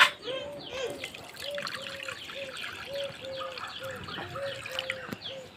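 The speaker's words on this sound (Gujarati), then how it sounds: "પાણી નાખી દેવી" A thin stream of water poured out for birds on a farm trickles and dribbles steadily, with repeated chirping birds nearby and soft background noise.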